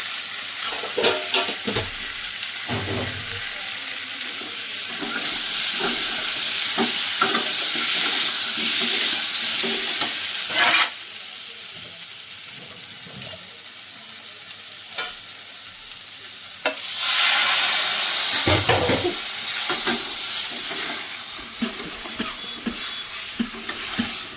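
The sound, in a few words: frying spice masala in a pan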